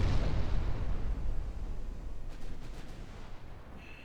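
A deep, rumbling boom of battleship gunfire in a naval video game that rolls and decays, followed by fainter distant thuds and a faint high tone.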